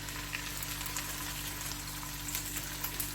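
Chopped ginger and garlic fry in hot oil with a steady, close sizzle and fine crackling pops throughout, no talking.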